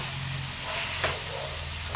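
Homemade paneer sizzles steadily in a kadhai, giving a close, continuous hiss with a couple of brief scraping touches.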